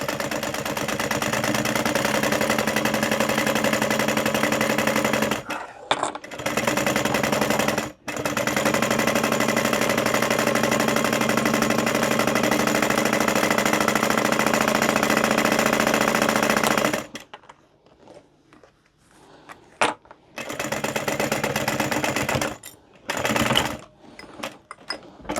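A sewing machine back stitches the seam of a homemade fabric lanyard, its fast needle rattling in long steady runs broken by brief pauses and then short stop-start bursts near the end, loud and close with no talking.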